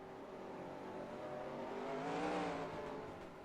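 A race car engine in the NASCAR Racing 2003 simulator drones at steady high revs, swelling louder around the middle with a slightly uneven, faltering tone before easing back, with no talk over it.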